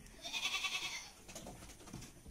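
An Etawa crossbreed goat gives a short, close bleat near the start, followed by quieter rustling and farmyard noise.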